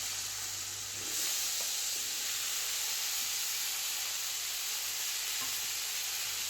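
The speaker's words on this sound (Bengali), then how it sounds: "আমি এখন সব কাঁচা কলাগুলো দিয়ে দেব।" Green bananas are added to hot oil with fried cumin, and after a quieter start a steady, even hiss of frying rises and holds. The sizzle is close but soft, with no talking.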